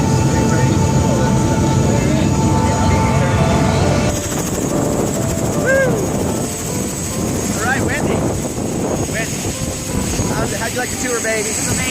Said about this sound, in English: That's our freaking helicopter right there.